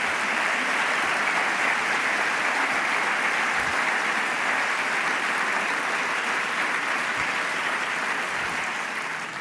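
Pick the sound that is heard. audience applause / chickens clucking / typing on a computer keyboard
audience applause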